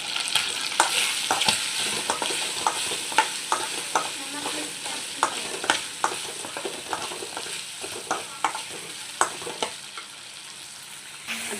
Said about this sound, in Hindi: अब ये भी तले जा रहे।